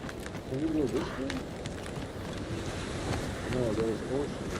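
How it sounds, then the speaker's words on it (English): Steady wind and rolling ocean surf fill The Outer Worlds 2 game world with constant loud broadband noise, and a voice talks over it at moments. "No, there's ocean."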